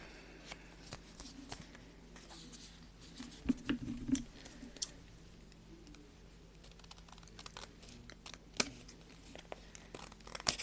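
Small scissors snip paper for Dollar Tree photo album crafts, a scattering of faint, sharp clicks and cuts at an uneven pace against a quiet room.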